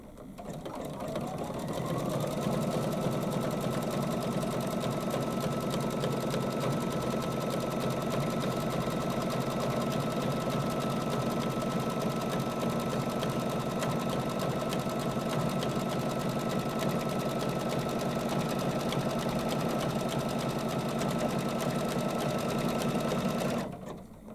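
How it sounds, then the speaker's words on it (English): An embroidery machine sews down a quilt project piece through pink tape, a steady, even mechanical whirr of rapid stitching that starts after a moment and runs uninterrupted at moderate volume until it stops. "So I'm just going to let it sew this piece down"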